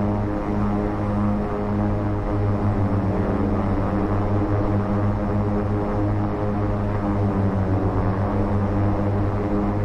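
Twin turboprop engines of a King Air 350 in X-Plane 11 drone steadily at 1500 RPM, a loud, even propeller hum with strong tonal harmonics and no talk.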